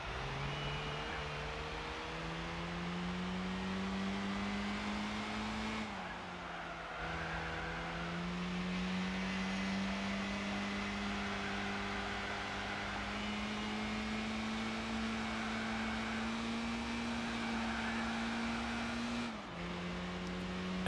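A Toyota Vitz race car engine from Gran Turismo 4 drones steadily at high revs, holding nearly flat out with slow pitch rises and two brief dips at gear changes, loud and continuous with no talk.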